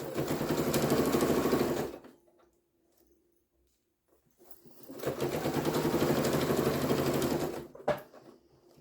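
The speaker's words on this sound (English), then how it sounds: "when you have this over the arm of your machine, those pins can sometimes catch underneath, so you have to keep turning your fabric as you go" A sewing machine stitches fabric in two loud, rapid bursts of mechanical clatter close by, each lasting a couple of seconds, with a quiet pause between them and a sharp click after the second run.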